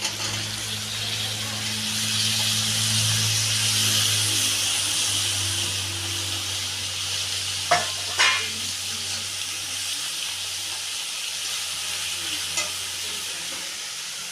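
Leafy greens (shaak) sizzle and are stirred in a pan for a village-style Bengali meal, a steady hissing fry with a low hum early on and a few sharp spatula scrapes and clinks partway through.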